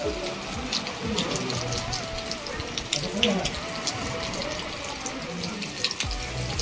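The Ganges river, swollen and risen high, rushes and splashes in a continuous heavy flow close at hand, with voices heard briefly over the water.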